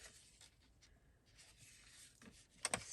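A paper envelope being closed, soft close rustling and rubbing of paper with a couple of sharper crinkles near the end, quiet and alone.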